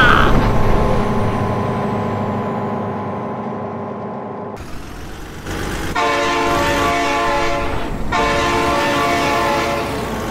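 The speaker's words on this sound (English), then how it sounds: "Oh my God, train!" A train sounds its horn in loud, sustained chords as it passes close by, the blasts cutting briefly before resuming over a heavy rumble of wheels and cars.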